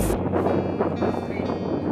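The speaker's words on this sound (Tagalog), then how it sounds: "lakas ng hangin" Strong wind buffets a microphone at the cold, exposed summit of Mt. Pulag in Benguet, a steady low roaring rush with gusty swells throughout.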